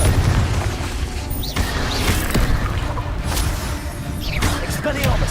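Confringo fire spell explosions in Hogwarts Legacy on PS5, several booming blasts and whooshes layered over continuous loud combat noise.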